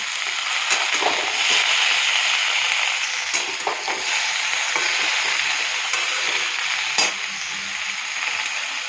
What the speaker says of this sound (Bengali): ভালো করে ভেজে নিচ্ছি। প্রথমে আলুটা ভাজি, তারপরে শিম আর বেগুন একসাথে দিয়ে দিই।